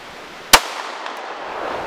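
A handgun, a CZ 75 or a Glock 19, fires once at an outdoor range during 100-yard shooting. The single sharp, loud report is close by and is followed by quiet background ambience.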